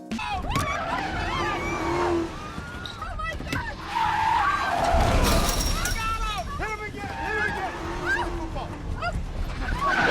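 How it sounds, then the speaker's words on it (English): F1 race cars skid and squeal through a Grand Prix scene from Iron Man 2, with screeching tyres and roaring engines over a dense, loud mix, while a voice talks over it. "Tony then goes to race in the Grand Prix because apparently he knows how to drive an F1 car"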